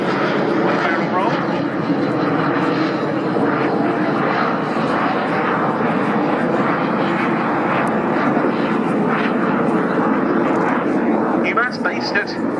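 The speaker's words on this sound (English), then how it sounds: "That's the aeroplane diving in to join number 1 as number 2 in the formation." Aircraft flying in formation at the Royal Navy International Air Day at RNAS Yeovilton, a loud continuous engine roar sustained throughout while a commentator talks over it.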